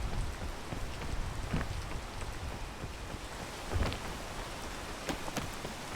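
Rain falls steadily in the video game Peak during a climb, a soft continuous hiss with a few brief louder spatters and faint distant rumbles.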